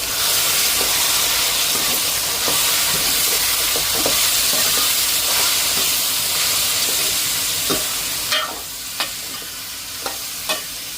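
Steady frying sizzle of onions and green chillies in a hot pan while cooking meat curry, with occasional clinks and scrapes of a spoon stirring toward the end.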